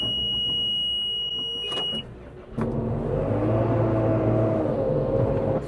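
A loading shovel's high electronic reversing beep sounds steadily, then cuts off, followed by its heavy engine rumbling and revving nearby.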